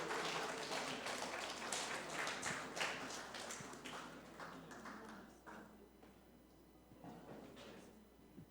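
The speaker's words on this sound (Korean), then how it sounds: "박수로 환영하겠습니다." Audience at a church summer retreat talk session clapping to welcome guests to the stage, a dense patter of applause that starts full and gradually thins out into scattered claps.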